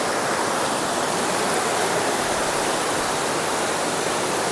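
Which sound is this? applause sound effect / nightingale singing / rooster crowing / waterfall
waterfall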